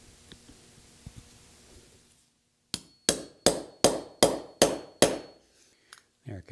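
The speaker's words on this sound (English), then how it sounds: "Let's go ahead and drift that in there." A hammer drives a drift to seat a part in a classic Porsche seatbelt assembly: after a quiet lead-in, seven sharp metallic strikes ring out in an even rhythm, close and loud, with two lighter taps at the end.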